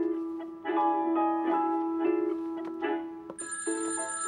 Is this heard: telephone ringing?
yes